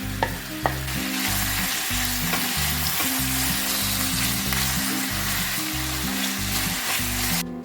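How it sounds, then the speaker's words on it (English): Sliced onions frying in olive oil and being stirred, giving a loud, steady, close sizzle with scraping and clatter from the stirring underneath, and no talking. "So now let's toss in our sliced onions, and we're gonna cook that, stirring occasionally until the onions get soft and translucent."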